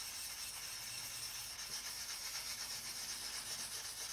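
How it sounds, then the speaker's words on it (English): A fine sanding stick rubs over a wet part in circular motions, a faint, steady, hissing scrape repeating with no voices. "Just sanding out all the nasties."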